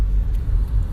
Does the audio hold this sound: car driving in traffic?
yes